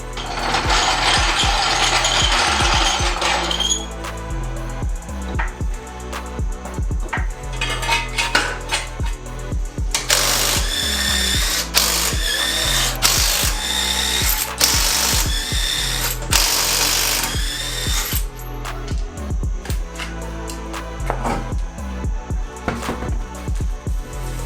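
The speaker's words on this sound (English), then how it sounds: "let me jack the car up and get this party started" A car with a 500+hp RB25 engine is raised on a ratcheting jack. The clip holds loud, fast metallic ratchet clicking in repeated bursts, with clanks of metal tools between them and no talking.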